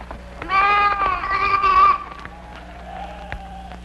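A single wavering bleat rings out for about a second and a half, fairly close, then fades into quiet with a few soft background noises.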